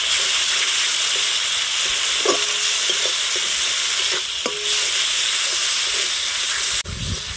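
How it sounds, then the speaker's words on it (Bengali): Dry chilli, coriander and cumin powders are stir-fried in hot oil with tomato in a pan: a loud, dense sizzling hiss with two distinct spatula scrapes and a sudden knock or drop near the end. "এখন সব মশলাগুলো ভালোভাবে কষিয়ে নেব।"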